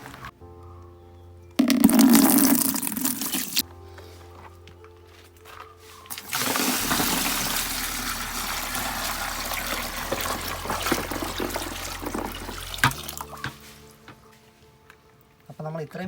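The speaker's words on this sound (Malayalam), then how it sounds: "ഇനിയിപ്പോൾ ഇതിനകത്ത് വെള്ളം ഒഴിക്കും." Water is poured into a freshly washed guppy aquarium tank, making a rushing, splashing flow that comes in two long bursts separated by quieter gaps, with someone talking in between.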